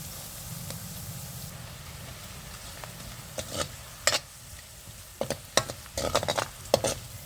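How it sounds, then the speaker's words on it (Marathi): Kolhapuri onion-garlic masala fries in hot oil while being stirred. A steady low sizzle runs under it, and irregular scraping strokes grow busier toward the end. No talking. "व्यवस्थित तेलात असं हलवून घ्यायचं"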